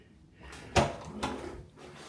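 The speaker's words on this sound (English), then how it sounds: "Let me shut the door quick for you." A hotel room door swings shut with a single solid thud, followed a moment later by a softer knock as it settles, close by in a quiet room.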